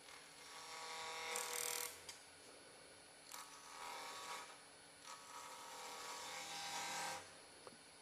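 Wood on a lathe shaped with a detail gouge while turning a cabriole leg, giving repeated scraping, hissing cuts in bursts of a second or two over a quieter machine hum.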